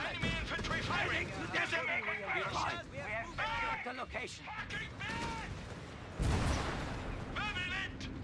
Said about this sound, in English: Enemy infantry firing!